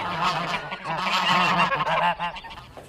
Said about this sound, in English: not to mention the geese.